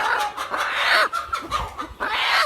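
A Kadaknath hen clucks in a run of short, close, fairly loud calls with brief pauses between them, and no talking.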